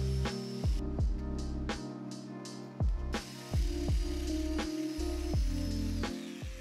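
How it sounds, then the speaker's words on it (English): A Festool Domino joiner cuts mortises into wooden stretchers and legs, its motor whining in repeated bursts with sharp starts and stops, plunging cut after cut at close range without any talk. "From there I cut the mortises into the stretchers, then marked and cut them into the legs."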